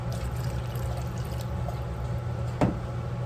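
Water is poured into condensed soup to dilute it, a steady soft liquid stream with a brief sharper splash near the end, and no talking.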